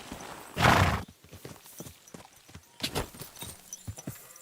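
Horse hooves clip-clop in a video game, a loud burst of hoofbeats early on followed by a steadier run of lighter, rhythmic clops, with a hint of whinnying.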